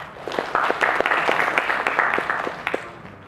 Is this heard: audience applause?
yes